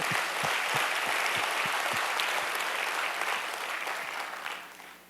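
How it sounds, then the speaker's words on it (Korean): A congregation at a Korean church worship service applauds in praise, a dense, steady wash of many hands clapping at close range that carries on for several seconds and tapers slightly at the end. "할렐루야, 할렐루야, 영광의 박수 보내"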